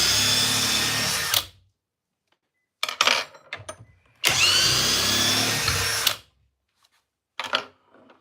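Flex power tool backing out 10-inch Timberlok screws, with loud bursts of whining drive lasting one to two seconds separated by quiet gaps and shorter stuttering pulses, close up and without talk.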